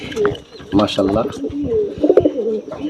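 Domestic pigeons in a breeding loft of about thirty-five pairs coo repeatedly, close and clear. Their soft, throaty, rolling calls come in overlapping bursts through the whole stretch.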